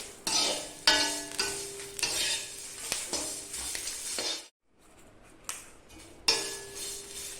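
Curry leaves and garlic roasting in a pan, a steady close sizzle broken by repeated scraping stirs, with a brief near-silent gap partway before the frying and stirring resume.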